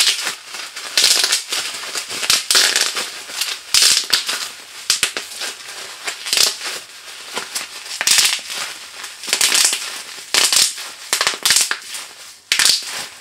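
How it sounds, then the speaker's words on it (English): Bubble wrap tape is popped by hand in quick irregular bursts of sharp, close crackling snaps over about thirteen seconds, with brief pauses between clusters. No voice is heard. "I will be popping this bubbly tape."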